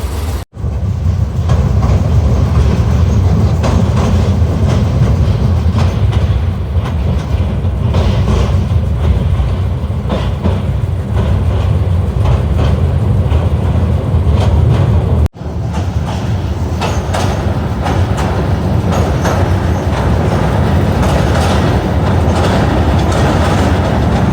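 Chattogram Mail train rolling along the rails at night on the Dhaka to Chattogram run, a loud, steady rumble with clickety-clack from the carriages holding for the whole stretch, briefly cutting out once before resuming.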